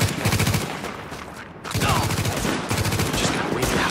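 Rapid automatic gunfire in Tom Clancy's The Division, loud sustained bursts near the listener broken by a brief pause before firing resumes.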